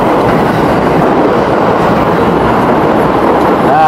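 A train pulls into a station in Japan, its loud, steady rumble and rolling wheel noise filling the space up close, with a faint squeal near the end.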